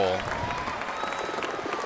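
Crowd at a music festival in the Nina Aquila video game, a steady wash of cheering and applause filling the short stretch, with a brief tone at the start.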